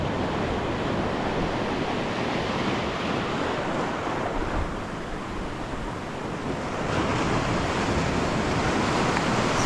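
Steady roar of ocean surf washing in continuously against a rocky shore, with broadband wash and some wind buffeting, swelling slightly toward the end.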